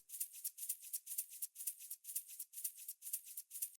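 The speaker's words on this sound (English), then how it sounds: "having something organic like this that was played in live really helps for that" Rapid, rhythmic hand-played shaker strokes in a steady house groove, each hit pumping in volume from sidechain compression, quiet and bright with no other sounds.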